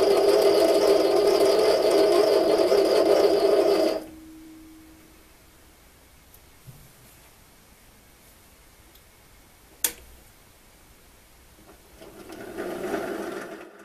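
A metal lathe cutting an M4 thread, set up with change gears, gives a steady mechanical whir for about four seconds, then stops. A quiet stretch follows with one sharp click before machine noise faintly builds again.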